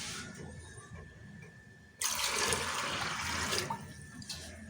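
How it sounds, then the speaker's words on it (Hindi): Water gushes steadily into a pressure cooker for a couple of seconds, a loud broadband rush starting abruptly over quiet room noise. "पानी आपने डाल देना"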